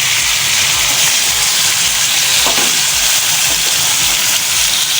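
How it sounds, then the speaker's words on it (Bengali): Fried chicken pieces go into a pan of cooked-down masala for chicken tikka masala, setting off a loud, steady sizzle and hiss with soft stirring scrapes throughout. "এবার এই ভেজে রাখা চিকেনগুলো এর মধ্যে অ্যাড করে দেবো।"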